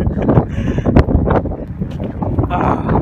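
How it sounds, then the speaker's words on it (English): Strong gusty wind buffeting the microphone at the Cliffs of Moher in Ireland, loud and continuous, with a person talking over it. "The wind is blowing so hard."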